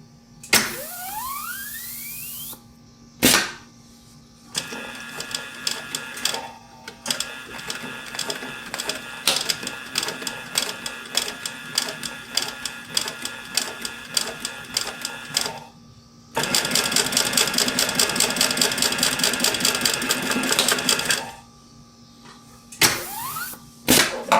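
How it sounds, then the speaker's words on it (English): A Pfaff 335 H3 dedicated binding sewing machine runs in repeated bursts, fast regular needle stitching starting and stopping between quiet pauses, with one longer steady run near the end. "So that's my Pfaff 335 H3. It's a dedicated binding machine."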